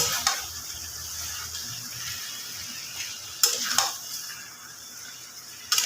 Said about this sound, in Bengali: এইবার আমি মাংসটা দিয়ে আবার একবার ভালোভাবে নেড়ে চেড়ে কষিয়ে নেব